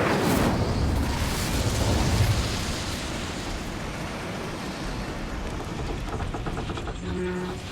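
The Incendio fire spell goes off in Hogwarts Legacy on PS4 with a loud, rumbling whoosh of flame that swells and then eases into a steady roar, joined late by a brief chiming game tone.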